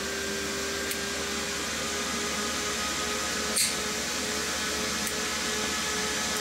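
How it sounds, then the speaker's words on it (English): Cooling fans on a CNC machine's radiator run hard, giving a loud, steady broadband whir that stays close and even throughout, with no talking. "the fans start to accelerate"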